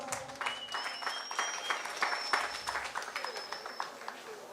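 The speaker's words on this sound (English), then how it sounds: "So let's give him a round of applause." Audience applause at a steel pan solo competition in Guayaguayare, moderately loud and steady, with a couple of sustained whistles or tones cutting through.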